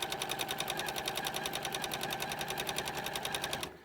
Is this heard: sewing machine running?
yes